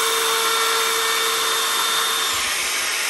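A power tool trims the bullnose edge of a kitchen work surface, a steady loud whine running continuously close by until it begins to wind down near the end.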